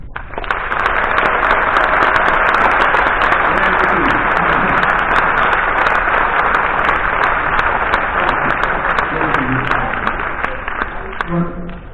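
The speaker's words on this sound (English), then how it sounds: "give him a very, very big and warm applause" Audience applause at the opening of the Science on Stage festival in Cascais, a loud, sustained wash of many hands clapping that holds steady for most of the stretch before tapering off as a voice begins.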